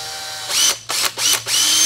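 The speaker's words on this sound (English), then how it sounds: "he's taking a drill with a small bit, just a little pilot hole" A power drill with a small bit bores pilot holes into plastic while component speakers are fitted in a Toyota Tundra CrewMax cab. Three close, loud whining bursts come in quick succession, with no talking.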